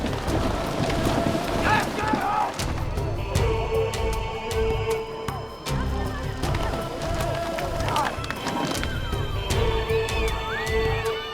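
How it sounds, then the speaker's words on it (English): Rain pours during a wild five-mile free-for-all horse race in Georgia, a steady dense hiss of falling water running throughout with hoofbeats and crowd noise mixed in beneath it. "It rains."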